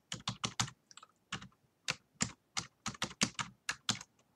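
Steady typing on a computer keyboard: brisk, close, clearly separated clicks in uneven bursts with brief pauses, alone and with no voice.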